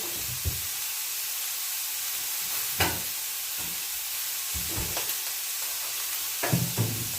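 Home-grown beans and vegetables stir-frying for mezhukkupuratti in a pan over low heat give a steady close sizzle, broken by a few sharp stirring scrapes and clinks.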